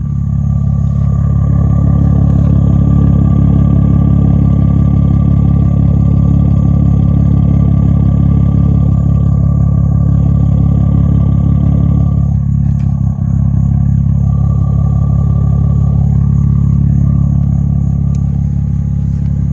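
An Audi B6 2.7T with a straight pipe exhaust, a loud, steady engine drone with a mechanical clatter, held at an even level throughout without much change in pitch.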